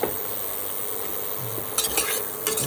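Ingredients for a quick idli sambar sauté in a pan, with a soft continuous sizzle and brief louder bursts of frying near the end, and nobody speaking.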